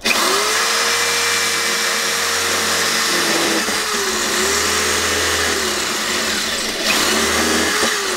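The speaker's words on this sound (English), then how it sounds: "So I'm just going to have to drill those out a little bit more" A power drill whines continuously and loudly up close, its motor pitch wavering slightly as it bores, with a few brief knocks and no speech.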